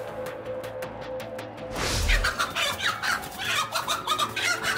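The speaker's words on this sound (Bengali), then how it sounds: "এই ভয়ঙ্কর কোবরার সাথেও মুরগিটি তীব্রভাবে লড়াই করে যাচ্ছে।" A hen fighting a cobra gives sharp, agitated clucks and squawks that break out loudly after a quieter stretch, with rapid repeated calls continuing close to the microphone.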